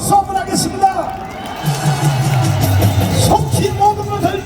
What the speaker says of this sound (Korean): 우리 검찰에 대하여 박수 한번 하겠습니다